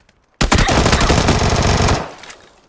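Sustained rapid automatic gunfire in a multiplayer shooter video game, one loud continuous burst of about a second and a half that cuts off and leaves a short fading tail.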